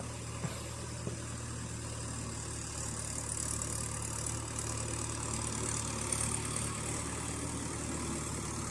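A 575 tractor pulling a 9-tyne cultivator through a wet field, its engine running steadily with a constant low drone and no break throughout.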